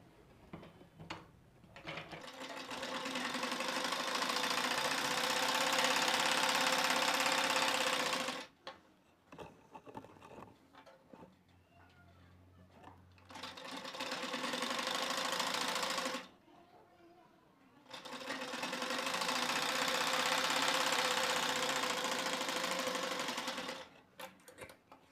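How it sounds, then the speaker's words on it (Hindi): An electric sewing machine stitches a frill blouse in three long runs of steady, fast, loud whirring with short quiet pauses between them, where fabric is handled and a voice talks briefly. "मैं इस तरीके से इस पर सिलाई लगा लूँगी और एक नीचे की तरफ भी सिलाई लगा लूँगी।"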